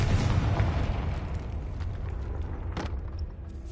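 A Confringo fire-blast spell detonating in Hogwarts Legacy, inside a tomb: a loud, rumbling boom that opens the clip and slowly decays, with a sharper crackling burst near the end.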